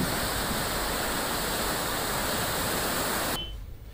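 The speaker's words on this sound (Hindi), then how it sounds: "6 फीट से ऊपर यहां से पानी बह रहा है" Floodwater of the swollen Sapna river in Betul rushing over a submerged bridge after heavy rain: a loud, steady roar of water that cuts away sharply near the end, leaving a faint hiss.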